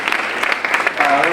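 An audience at a social innovation event in Navarra bursts into dense, sustained applause, many hands clapping together at close range, with faint voices mixed in.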